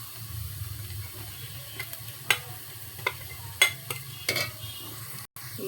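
Turmeric, chili, coriander and cumin powders with salt and garlic paste are stirred in a pan for a hilsa fish curry, making a faint, soft sizzle broken by sparse spoon taps and scrapes.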